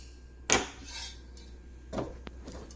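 A metal kadai is set down on a stove with a sharp clank, followed by softer scraping knocks and a light ting of metal on metal.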